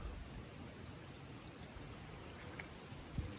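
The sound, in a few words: spring water flowing into a small creek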